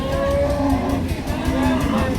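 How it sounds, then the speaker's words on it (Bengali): Cows low at a rural cattle market in Gazipur, with long drawn moos rising over a dense murmur of the crowd nearby. "সামনে আপনারা দেখছেন যে অনেক গাবি গরু বকনা গরু উঠেছে"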